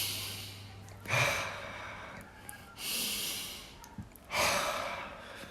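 A person takes slow, deep breaths, three long airy inhales and exhales close up with quiet pauses between.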